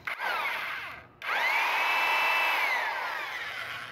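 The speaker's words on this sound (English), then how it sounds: "Give it a little angle up so it's a little easier to drill." A power drill bores into wood for a washboard craft piece, with a short burst, a brief pause, then a longer rising and steady whine that slowly trails off, close up and alone.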